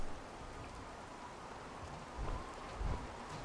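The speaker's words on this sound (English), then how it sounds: "Why is it still raining on my screen and I'm inside?" Rain falls in the video game Fallout 4 as a faint, steady hiss with a couple of soft low rumbles, quiet and uninterrupted by speech.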